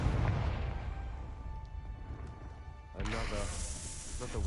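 A burst from the Confringo fire spell in Hogwarts Legacy, a deep booming blast at the start that fades into a rumble, followed by a second crackling burst with a voice speaking over it.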